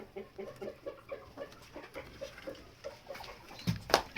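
Chickens cluck softly in a steady, rhythmic series of short calls, with a brief sharper sound near the end and no talking.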